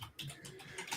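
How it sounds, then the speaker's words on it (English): Computer keyboard typing close by, a quick run of soft irregular key clicks over about a second, fairly quiet with no talk. "Oh, can you hear me typing? Is it really that loud?"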